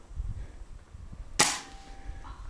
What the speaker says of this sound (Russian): Стрельба по столбу деревянному.